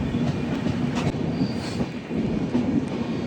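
A Vande Bharat train runs through Goa, heard from an open carriage door. The close, steady rumble of the wheels carries a rattling clatter and rushing wind, with no voices.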